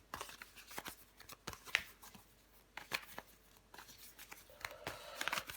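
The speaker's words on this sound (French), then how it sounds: "Les Sagittaires, on va recouvrir des cartes." Tarot cards being shuffled, handled and turned over during a reading, a run of quick papery flicks and slides with a few sharper snaps, close and fairly quiet, with no talk over them.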